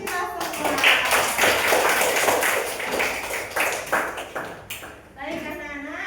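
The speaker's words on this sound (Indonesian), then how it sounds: "Beri tepuk tangan untuk kita semua." Children in a classroom clap together during a lesson, a loud ragged burst of hands that thins out and fades, with voices and chatter over it near the end.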